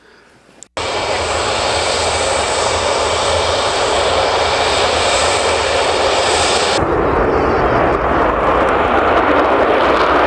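Concorde supersonic airliner's jet engines roar loud and steady after an abrupt start, a broad sustained blast that shifts in tone partway through as the aircraft passes.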